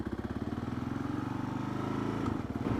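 A Kawasaki KLR 650 motorcycle rides on dirt, its single-cylinder engine giving a steady, fast pulsing thump at a fairly even pace that sounds close and holds throughout.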